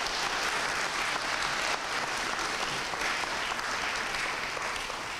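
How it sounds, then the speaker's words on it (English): Steady, fairly distant applause fills a university hall as an audience claps for students at a W.E.B. Du Bois Day event, an even, continuous patter of many hands throughout. "Can you give our students a round of applause?"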